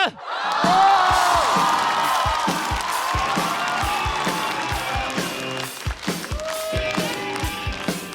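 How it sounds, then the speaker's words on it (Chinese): Audience applause and cheering greet a comedian at a Chinese stand-up comedy competition: a dense, loud, sustained wash of clapping and whoops that swells early and then gradually thins toward the end. "掌声有请史岩"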